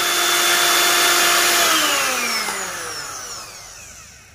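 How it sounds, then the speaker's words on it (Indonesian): Repaired Miyako blender motor whirring loudly and steadily on its own, its pitch slowly falling and the sound fading as it winds down. "itu dia cara kita memperbaiki mesin blender"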